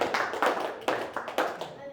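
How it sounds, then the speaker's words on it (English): Scattered bursts of clapping from a small crowd at a members' meeting, coming in uneven waves rather than sustained applause, with voices mixed in. "give yourself a round of applause"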